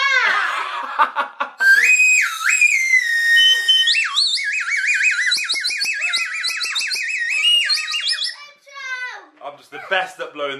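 Shrill toy whistle blown in long warbling bursts, with children talking and laughing before and after.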